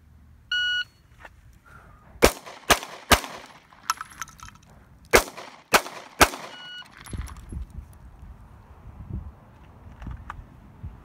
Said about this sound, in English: We're going to draw from the holster with strong hand, fire 3 shots, go to weak hand, fire 3 shots